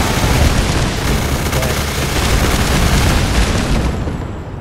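A custom-built weapon firing in Fallout 4, a continuous dense roar of rapid shots and booms that stays loud and unbroken throughout.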